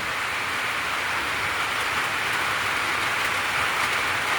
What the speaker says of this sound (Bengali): শোনা যাচ্ছে চড় চড় করে বৃষ্টি হচ্ছে